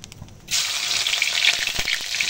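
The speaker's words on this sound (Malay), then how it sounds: "Ikan bilis ni kita goreng dulu sampai dia rangup." Anchovies (ikan bilis) hit hot oil and fry until crispy. A dense, bright sizzle bursts in after a short quiet start and holds steady and close.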